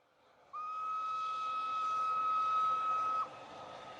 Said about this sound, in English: Professor Liedenbrock and Axel take a train to Denmark